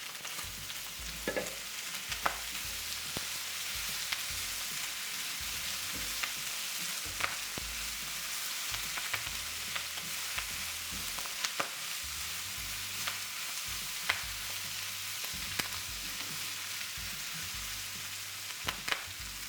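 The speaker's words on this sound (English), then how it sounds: "now it's time to dump in your sprouts" Brussels sprouts sizzling with bacon in a Le Creuset pan, a soft, continuous frying crackle with occasional light pops and utensil taps, fairly quiet and steady throughout.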